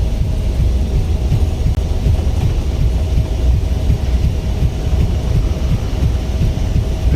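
Twin jet engines of an ERJ-175 at takeoff power in Microsoft Flight Simulator, a steady loud low-pitched roar and rumble that holds constant throughout, with no voices.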